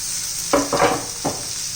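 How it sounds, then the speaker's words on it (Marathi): Chopped tomatoes tipped into a pan of softened onions for a spicy dried-fish chutney, giving a steady close sizzle with two louder bursts of hissing spatter as the pieces land. "आता त्यात टोमॅटो घालून घेऊ"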